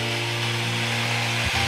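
A saw cuts through the wood of a bonsai tree, likely a Vietnamese duối tree, with a steady, continuous rasping drone that holds up close for under two seconds, a brief dip near the end, and no voices.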